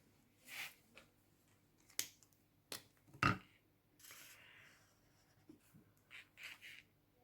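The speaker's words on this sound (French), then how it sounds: "Et je vais colorier à l'intérieur." A marker or pen colours in small drawn eyes on a paper cup being made into a unicorn, producing soft scratchy strokes in short bursts with a few sharp taps and quiet pauses between them.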